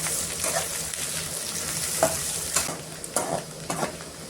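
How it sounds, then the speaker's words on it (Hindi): Onion and garlic fry in oil for a village-style mutton fat dish, a continuous close sizzle broken by several sharp stirring scrapes and clinks. "थोड़ा सा लहसुन भी ऐड कर देंगे। 2 मिनट में फ्राई कर लेंगे।"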